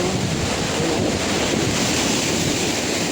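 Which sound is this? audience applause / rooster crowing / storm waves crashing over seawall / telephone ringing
storm waves crashing over seawall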